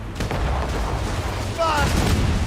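Ship cannons fire in Assassin's Creed Rogue as a run of heavy booming blasts over a low, rumbling din of naval battle, with a short voice cutting in partway through.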